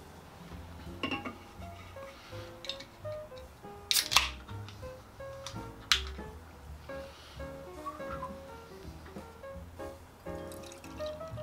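A can of Abomination Brewing Drippy Popsicle Beer is cracked open and poured, with a sharp hiss of release, fizzing and liquid gurgling, close and moderately loud.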